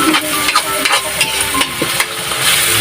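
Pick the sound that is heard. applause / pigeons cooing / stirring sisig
stirring sisig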